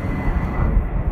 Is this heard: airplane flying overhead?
yes